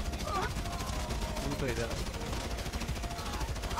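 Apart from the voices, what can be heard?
gunfire in video game GTA 5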